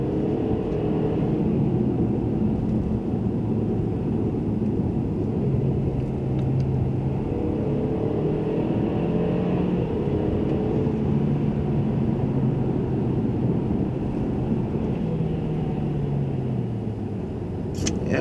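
A 2017 Mercedes E-Class driven at night in sport mode gives a steady, loud engine and road rumble heard from inside the cabin, holding evenly throughout with no talking.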